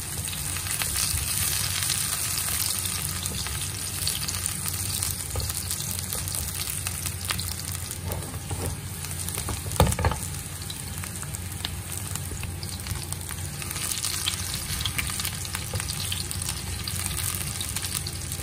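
Garlic and ginger fry in a pan with a steady close sizzle and crackle, broken by a brief knock of a utensil midway, with no talk.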